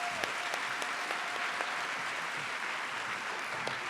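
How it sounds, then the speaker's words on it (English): An audience claps steadily at a nursing school pinning ceremony, dense sustained applause from a sizable crowd heard at moderate distance in an indoor hall, with no one speaking over it. "join me again in a sincere round of applause"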